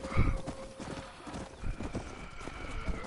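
Horse hooves clip-clop in the Red Dead Redemption video game as a grey horse and a pack of wild horses appear, with a neigh near the start and faint game ambience throughout.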